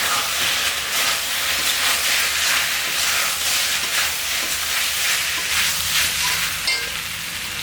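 Cut boiled eggs fry in hot oil in a pan for egg manchurian, a loud continuous sizzle and hiss filling the whole stretch, with faint stirring scrapes and no voices.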